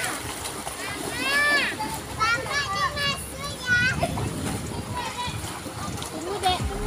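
Children splash and play in the water of a ditch, with constant excited kids' voices and shouts over lively splashing, all close by and busy.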